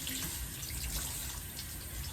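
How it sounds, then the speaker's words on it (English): Cold water runs steadily from a faucet while a doll's Kanekalon hair is rinsed beneath it, a continuous broadband splashing hiss that stays close and even throughout, with no voices. "all I do is rinse it under some cold water from the faucet"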